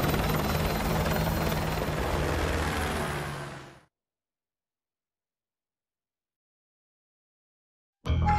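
A helicopter in Call of Duty: Modern Warfare 2 Remastered makes a loud, close, steady rotor roar that fades out over about four seconds and is followed by silence, then a short burst of sound comes back at the end.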